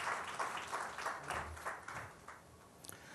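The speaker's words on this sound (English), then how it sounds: "a very, very warm round of applause." Conference audience applauding for India's Union Education Minister Dharmendra Pradhan, a fairly faint, continuous wash of clapping from a large hall.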